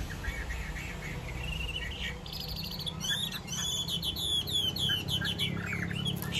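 A Chinese hwamei songbird sings in rapid, bright whistled phrases and trills, fairly close and loud, over a constant low background hum.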